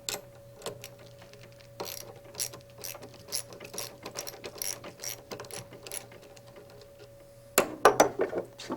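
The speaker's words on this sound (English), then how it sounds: "Loosen the bolt on the slider lock ring." A ratchet wrench loosens the bolt on the slider lock ring of a Rotorway helicopter. It gives a rapid string of crisp, close clicks over a steady low hum, ending in a louder, denser burst of ratcheting.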